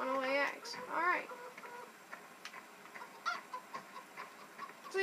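Chickens cluck in Farming Simulator 2015: a few honking, nasal clucks up close at the start, then scattered faint clucks and pecking sounds over a low, quiet background.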